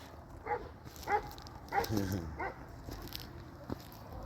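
A small puppy lets out a few short, faint whimpering yips spaced apart in a quiet room.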